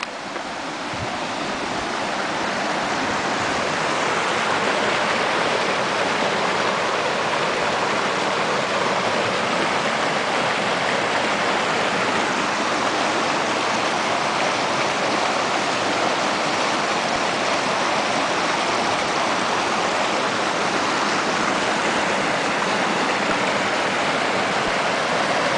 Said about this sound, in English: Get a little bit better view of the creek here.